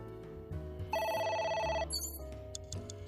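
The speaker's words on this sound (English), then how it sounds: "then the phone starts ringing" A phone rings in the game AI: The Somnium Files, one bright electronic trill over soft background music, fairly quiet, with no talk.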